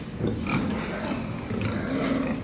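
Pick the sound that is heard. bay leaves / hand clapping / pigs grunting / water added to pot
pigs grunting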